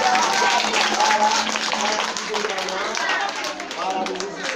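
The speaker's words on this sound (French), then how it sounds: "applaudissez très bien fort pour la vie" A live audience applauds loudly and steadily at a children's music performance, close crisp clapping that carries through with voices mixed in.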